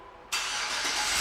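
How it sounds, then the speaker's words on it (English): A silver 2009 Chevrolet Suburban LTZ SUV fires up by remote start, with a sudden loud catch followed by a steady, close-up engine idle and no voices. "and the car starts right up."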